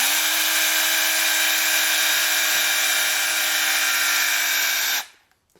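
A loud, steady high-pitched whine of an electric drill twisting wires together, spinning continuously for about five seconds, then stopping abruptly and winding down to silence.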